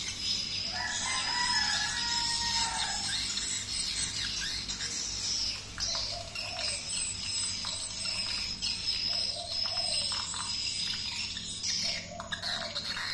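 Swiftlet lure calls play as a parent bird summoning chicks, with dense, repeated high chirps and twitters over a steady insect-like buzz. Lower warbling phrases recur throughout at a constant loudness.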